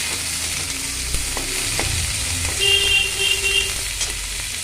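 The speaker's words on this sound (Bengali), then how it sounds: "কড়াইয়ের তেলে আমি কাঁচা লঙ্কা, শুকনো লঙ্কা, কালো জিরে ফোড়ন দিয়ে পটল পেঁয়াজ ভালো করে ভেজে নিচ্ছি" Loud, close hiss of pointed gourd and onion frying in oil in a kadai with green and dried chillies and nigella seeds, with a few brief stirring knocks and a faint high whine partway through.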